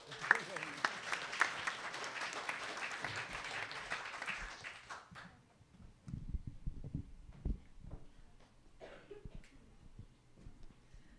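Indoor audience applause at an evening public science talk, a dense burst of clapping for about five seconds that then fades out, followed by scattered footsteps and rustling.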